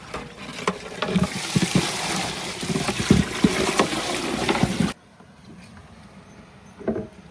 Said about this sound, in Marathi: आता याच्यात पाणी टाकतो